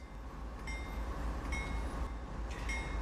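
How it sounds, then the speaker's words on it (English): Train Sim World 5 locomotive pulling away on Xbox, a steady low rumble of rolling wagons with faint higher squeals or whines recurring about once a second, continuous and moderately loud, with no talk. "So, got the train moving."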